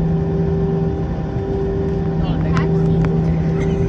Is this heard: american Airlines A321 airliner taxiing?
yes